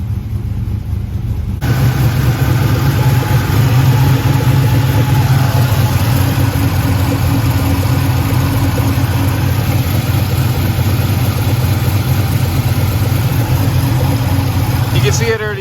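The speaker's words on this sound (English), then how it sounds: "So she's gonna be running for a little while." A wrecked 2004 Pontiac GTO's engine catches after a moment of quiet and settles into a loud, steady idle that runs evenly to the end, heard up close during an oil and coolant change.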